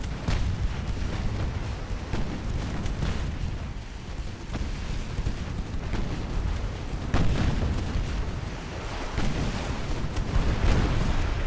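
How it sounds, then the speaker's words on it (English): Torpedoes detonating in the naval game Ultimate Admiral: Dreadnoughts, a continuous rumble of booms and bursts with repeated heavy blasts, dense and loud without speech. "my torpedoes keep blowing up before they even get where they're going"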